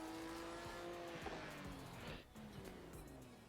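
A race car engine screams around Interlagos in a racing video game, with high revving tones that rise and fall through gear shifts and tire squeal. It is heard alongside a soft voice.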